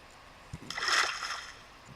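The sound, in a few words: splash of diving into the ocean in Minecraft video game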